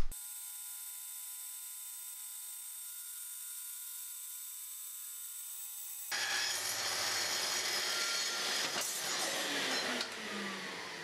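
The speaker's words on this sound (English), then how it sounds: "I first used my circular saw." A circular saw trims a wooden tabletop to size, cutting in with a loud, steady whine after a stretch of quiet electrical hum and running for about five seconds before winding down.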